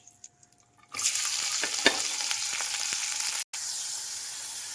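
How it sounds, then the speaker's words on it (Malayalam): Sliced onions and spices tipped into hot coconut oil, bursting into a loud, steady sizzle after a quiet start, with a few stirring scrapes and a momentary dropout before the frying resumes. "ഇത് മൂന്നും കൂടി നമുക്ക് ഈ വെളിച്ചെണ്ണയിൽ ഇട്ടിട്ട് നല്ലപോലെ ഒന്ന് വഴറ്റിയെടുക്കണം"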